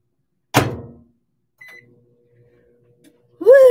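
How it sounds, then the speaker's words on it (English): A microwave oven during a home cooking session gives a brief beep and then a faint, steady low hum for a couple of seconds, bracketed by a loud clunk at the start and a voice exclaiming at the end. "Or back in the microwave."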